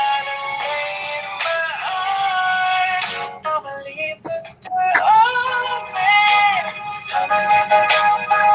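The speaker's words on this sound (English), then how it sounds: "Now my phone going off." A mobile phone ringing with a melodic, tonal ringtone that plays loudly and steadily for several seconds, with brief gaps in the pattern and no talking over it.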